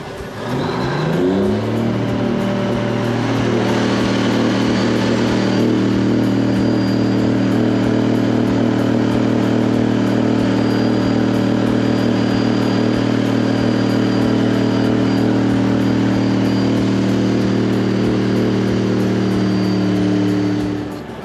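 Off-road truck revving hard as it climbs a rocky line in a canyon, the engine rising quickly then holding a loud, sustained roar close by for about twenty seconds before easing off, with no talk.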